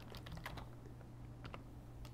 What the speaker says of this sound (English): I start typing box plot